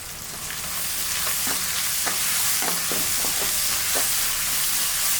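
Onions and curry leaves sauté in a pan under a steady, loud sizzle, broken by a handful of spatula scrapes and stirs heard up close.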